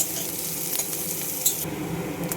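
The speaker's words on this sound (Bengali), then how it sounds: "পেঁয়াজটা আমার ভাজা হয়ে গেছে" Chopped onion frying with garlic and cumin in a pan, a continuous hiss of sizzling with light scraping of a utensil against the pan, no talking.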